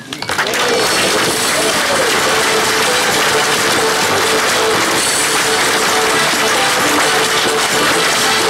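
Applause from an audience at a Lions Club charter presentation ceremony in Évreux, a loud dense wash of clapping filling the whole stretch with a steady tone running beneath it.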